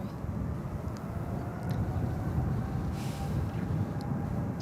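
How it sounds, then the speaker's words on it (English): An Air Premia Boeing 787-9 airliner takes off from runway 28 left at San Francisco Airport, heading to Seoul. Its engines make a loud, steady, broadband roar that fills the whole stretch without a break. "Starting to hear those takeoff sounds just a little bit."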